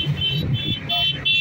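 A car travelling by road toward Meerut, heard from inside as a steady engine hum and road rumble, with repeated high tonal beeps or horn-like toots over it.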